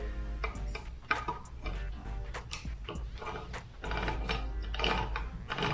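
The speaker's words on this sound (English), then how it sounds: "This can opener is not being very good anymore." A manual can opener that no longer works well cranks around a can with a rapid series of close ratcheting clicks and mechanical grinding, steady throughout with no talk.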